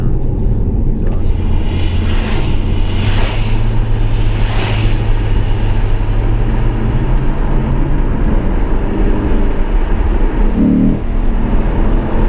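A Lexus RC F engine revs steadily with a rumbling exhaust note, loud and close, its pitch swelling and easing over several seconds.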